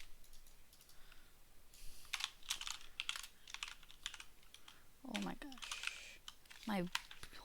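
Computer keyboard keys clatter in quick, uneven bursts of typing close by, pausing while a person talks briefly, then resuming.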